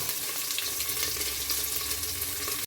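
Onions, ginger, garlic and green chili sizzling in a pan, a dense, continuous hiss heard close up and alone, steady throughout.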